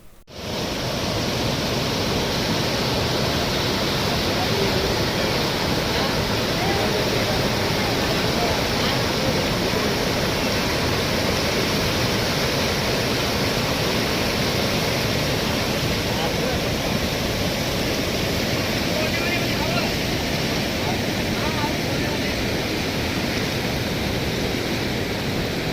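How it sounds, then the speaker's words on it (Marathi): Heavy monsoon rain and a release of about 8500 cusecs of water from Gangapur dam in Nashik, heard as a loud, steady, broadband rushing roar that fills the entire stretch without a break. "नाशिकमध्ये गेल्या 2 दिवसांपासून सतत मुसळधार पाऊस सुरू असल्यानं गंगापूर धरणातून 8500 क्युसेक्स पाण्याचा विसर्ग सोडण्यात आला"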